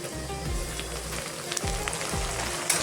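Chopped tomatoes hit a hot oiled pan already seasoned with chili flakes, setting off a steady crackling sizzle with brief popping bursts, close up and with no talking.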